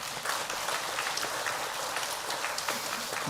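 A Sunday worship congregation at Jeonju Sinsang Church applauds to welcome a retired pastor and his wife, a steady, moderately quiet patter of many hands clapping at once without letup.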